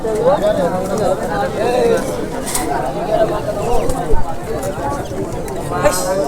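Fantail pigeons coo in a wavering, repeated rhythm close by at a pigeon market in Bangladesh while people talk over them.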